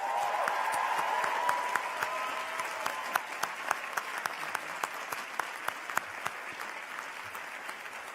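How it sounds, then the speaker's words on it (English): A graduation audience gives a long round of dense applause for the staff, many hands clapping at once and the sound slowly thinning out toward the end. "they deserve a huge, huge round of applause"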